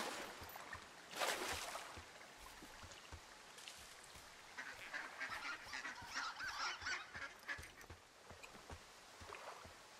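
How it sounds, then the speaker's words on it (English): Geese honk in the game Firewatch, several calls in loose bursts at middle distance over an outdoor ambience, the honking strongest around the middle of the stretch and trailing off toward the end. "Listen to those geese."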